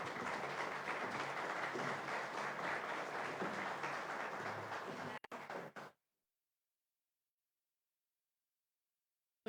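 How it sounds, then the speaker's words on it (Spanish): Audience at a book launch in Riobamba applauds loudly and steadily in a dense crowd clap for about six seconds, then stops abruptly into silence. "démosle un fuerte aplauso"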